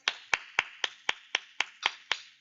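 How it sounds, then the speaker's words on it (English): A single person clapping after a Krav Maga class drill, eight evenly spaced, crisp hand claps in a steady rhythm, close and clear with a short room echo and no talk. "Give yourself a big round of applause."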